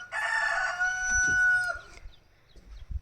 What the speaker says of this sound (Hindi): मुर्गी भी जो है ना बांग दे रही है, आपको वीडियो में सुनाई भी दे रहा होगा